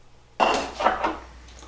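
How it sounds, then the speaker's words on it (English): A spoon stirs banana pudding mixture with added milk in a bowl, giving a sudden close scraping clatter that fades over about a second. "I'm going to stir this up for about 2 minutes."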